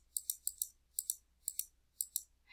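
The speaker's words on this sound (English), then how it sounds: "double click" A computer mouse clicked several times in quick pairs of double clicks, sharp and close, with short pauses between each pair and no talking.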